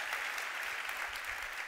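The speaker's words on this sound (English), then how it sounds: "Yeah, another round of applause for that." Audience applause at a business talk event, a steady dense clatter of many hands clapping throughout, fairly distant and uniform with no voices over it.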